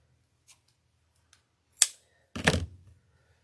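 Scissors snip through twine for a rustic shamrock wreath hanger: a few faint ticks, then two sharp, close cuts, the second heavier and longer, in a quiet room with no talking.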